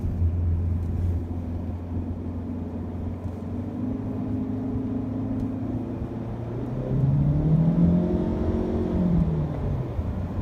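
A 2018 Ford C-Max hybrid accelerates hard, heard from inside the well-insulated cabin. A steady low engine drone with road rumble fills the clip, and the engine pitch climbs and swells noticeably toward the end.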